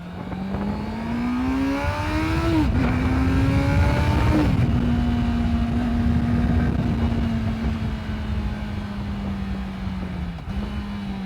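Honda CBR650F inline-four sport bike carrying a passenger, its engine note rising steadily under hard acceleration with brief dips at gear changes, loud and continuous throughout.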